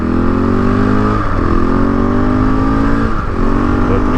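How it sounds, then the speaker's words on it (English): A car engine revs hard and loud close by while peeling out in third gear, a steady roaring drone with two brief dips as it climbs through the revs. "I was peeling out in third gear back there, bro."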